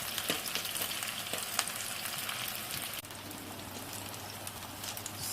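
Onion and potato bhajis deep frying in hot oil, a steady dense sizzle and crackle that holds throughout, loud and close with no talk.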